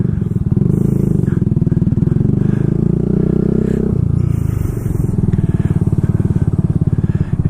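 Kawasaki Z125 motorcycle with an aftermarket exhaust revving close up, a loud, gritty, pulsing engine note that holds steady, dips briefly midway, then climbs again.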